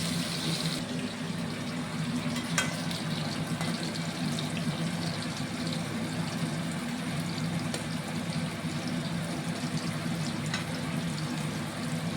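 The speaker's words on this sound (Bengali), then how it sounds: "এবার এটাকে ভেজে নেব" Marinated raw banana fingers frying in plenty of hot oil, a steady close bubbling sizzle that holds evenly throughout with no voices.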